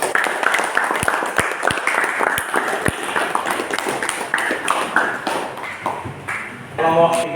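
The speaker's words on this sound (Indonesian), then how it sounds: "Ya, tepuk tangan semuanya." Audience applause fills a room at an Indonesian teacher-training session for Islamic religious education, a steady mid-level patter with some sharper individual claps standing out and voices mixed in.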